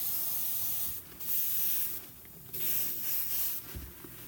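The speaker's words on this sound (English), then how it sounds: "These aren't really the right airbrushes to be doing this with" An airbrush sprays paint while striping a helmet with a flag design, giving a soft steady hiss in several bursts with short pauses between, close and fairly quiet.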